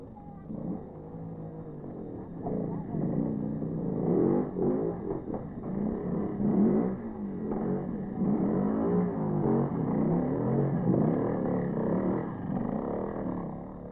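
A Yamaha trials motorcycle ridden by Mick Andrews climbs a long, twisting section at the Scottish trials, its engine revving and roaring steadily near the listener throughout, with the note rising and falling as the throttle is worked.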